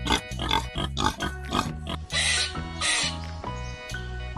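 Wild boar grunting in a quick run of short, rough, harmonic grunts and squeals, loud and close, with brief pauses between bursts and no voices.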